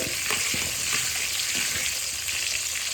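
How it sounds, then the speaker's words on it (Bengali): Potatoes frying with turmeric in a pan, a continuous crackling sizzle with scattered scraping stirs, close and fairly loud, with no voices. "প্রথমে আলুগুলো একটু লালচে লালচে ভেজে নেবো ও একটু হলুদ দিয়ে দেবো"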